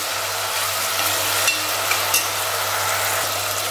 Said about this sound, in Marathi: तर आता टोमॅटो आपण नरम होईल तर हे सर्व परतून घेणार आहोत